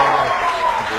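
Audience applause greets a poet's entrance at a televised poetry recital, a dense steady clatter of clapping lasting about a second, with a voice speaking over it.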